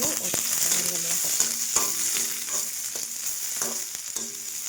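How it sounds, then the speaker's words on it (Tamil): Cumin seeds, a dried red chili and onions fry in hot oil in a pan, a close, continuous sizzle with faint crackles and occasional stirring scrapes, no voices. "ஜீரகம் பொரியட்டும்."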